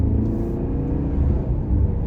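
A 2023 VW Arteon SEL Premium R-Line accelerating on the road, heard from inside as a steady low engine rumble and whir that swells slightly, with no talk.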